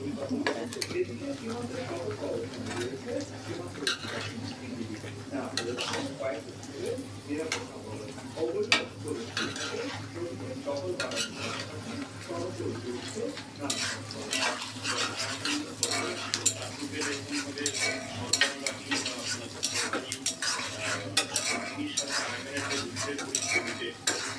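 Tomato and radish greens being stirred in a pan with a spice paste, a steady soft sizzle under frequent clinks and scrapes of a utensil against the metal, with faint talk in the background.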